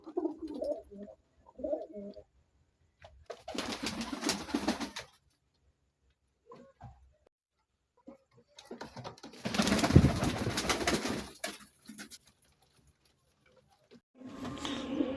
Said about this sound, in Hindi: देखो कबूतर दोवें सियालकोटी कबूतर बहुत अच्छे किस्म के कबूतर हैं।